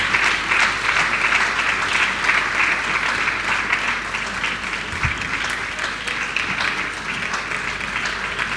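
An audience at a Dakar masterclass claps and cheers steadily and fairly loudly, a dense continuous wash of applause that holds its level throughout.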